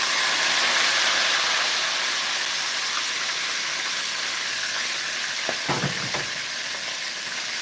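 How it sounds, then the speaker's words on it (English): Steady, loud sizzling of chicken frying in very hot oil, a continuous crackling hiss with a few faint clinks near the end. "Now that the oil is really hot, it's frying a lot faster."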